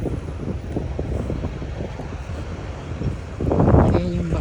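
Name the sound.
breeze blowing outdoors while walking to school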